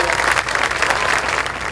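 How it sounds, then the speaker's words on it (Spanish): An audience at a Radio Sonora anniversary ceremony applauds, loud and close, a continuous crackle of many hands clapping through the whole stretch. "Muchas gracias y un aplauso para don Armando."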